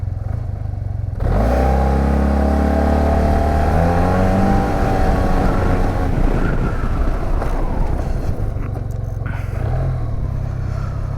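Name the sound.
SYM Maxsym TL 508 scooter accelerating from idle at full throttle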